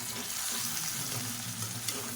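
Drumsticks and brinjal sauté in a pan for a village-style sambar, a soft continuous frying crackle and hiss with faint stirring, fairly quiet and steady, no speech.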